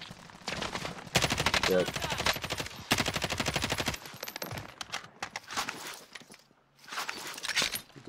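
Rapid automatic gunfire in a video game, fast rattling bursts that start and stop in several runs, with a short spoken reply between them.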